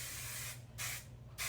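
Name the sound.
TIGI Magnified XF Volume hairspray being sprayed on hair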